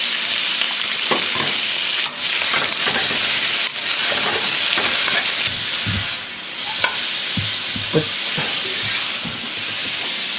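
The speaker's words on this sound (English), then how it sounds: "So just give the pork belly a good sear" Pork belly sears in a pan with large pieces of ginger for braised pork belly with abalone, giving a loud, continuous sizzle. Scattered scrapes and knocks of stirring break through, with no voices.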